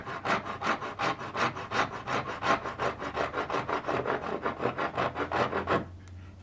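Acrylic sprue pieces on a model ship are cut off with a rapid, rhythmic rasping, like a fine saw stroking back and forth about three times a second, close and fairly loud, then stopping abruptly near the end; no talking.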